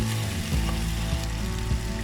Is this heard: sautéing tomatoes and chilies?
yes